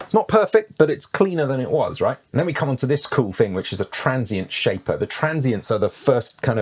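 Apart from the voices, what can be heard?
No everyday noises stand out.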